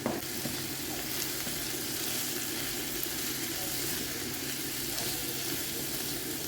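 Thinly sliced spinach sizzling with chicken in a pan, a dense, even hiss of frying that holds steady and close throughout, with no talk.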